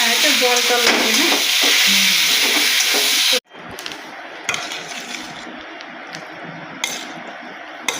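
Vegetable curry with beetroot and carrot being stirred and fried in a pan, a loud steady sizzle with scraping spoon strokes, then a sudden drop to quieter frying with occasional clinks of utensils against the pan.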